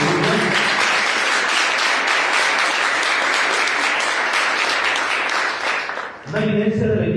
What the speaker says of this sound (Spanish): Denle un gran aplauso al Rey, hermano.